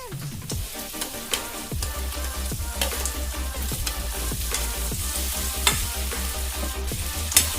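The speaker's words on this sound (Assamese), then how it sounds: "এতিয়া মই ইয়াতে দি দিম মাংসখিনি" Meat dropped into a hot pan with cardamom, frying with a constant loud sizzle broken by repeated sharp spoon scrapes and clatters against the pan at an uneven rhythm.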